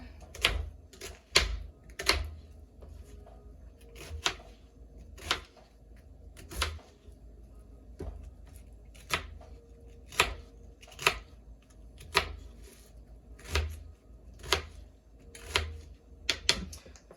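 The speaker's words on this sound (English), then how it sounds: "Okay, I got my onion rinsed off. I'm going to cut that up." A knife chops an onion on a cutting board in about twenty sharp, evenly spaced cuts, close and clear, over a quiet background hum.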